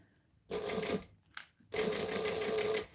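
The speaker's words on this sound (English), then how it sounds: "I'm actually going to be stitching almost through the top of the piping." A sewing machine stitches piping onto fabric in two steady bursts, the first about half a second long and the second longer, separated by a brief pause with a small click, heard close and alone.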